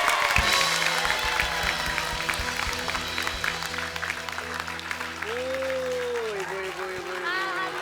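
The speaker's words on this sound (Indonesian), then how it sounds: "Sekali lagi kita kasih tepuk tangan untuk Ibu Misdar" Studio audience applause for a contestant, Ibu Misdar, at a televised Indonesian comedy game show, dense sustained clapping and cheering from a crowd with a host talking over it and music swelling near the end.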